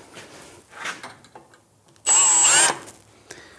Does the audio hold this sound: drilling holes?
yes